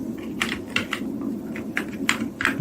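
Fingers type on a computer keyboard in a quiet room, a short run of soft, irregular key clicks over a low background hum, with no talking.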